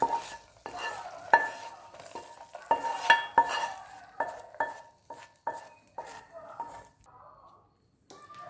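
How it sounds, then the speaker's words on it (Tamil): A spoon stirring ghee-fried cashews and raisins into thick barnyard millet sweet pongal, repeated soft scrapes and clinks against the pot in an uneven rhythm, close, with a quiet gap near the end. "இப்போ நெய் முந்திரியும் திராட்சை எல்லாம் ஆட் பண்ணி நல்லா மிக்ஸ் பண்ணுங்கள்."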